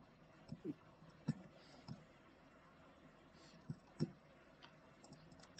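Typing on a computer keyboard during an online tabletop role-playing session: a few separate, faint key clicks and taps, spaced irregularly over low background noise.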